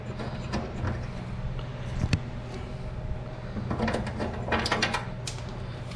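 A hand ratchet loosens the clamp on an Indian motorcycle's exhaust shroud, giving quiet, uneven clicking and metallic fiddling close by, with one sharper clank midway, over a low steady background hum.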